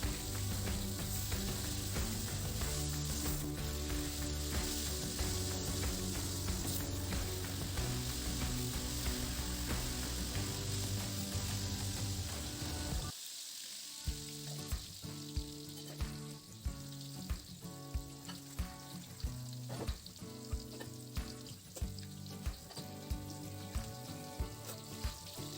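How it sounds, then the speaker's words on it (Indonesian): Tempeh and tofu fry in hot oil with a dense, steady sizzle that runs throughout, then turns crackly and rhythmic as the pieces are stirred. No one speaks. "yang terakhir kita goreng tempe dan tahunya"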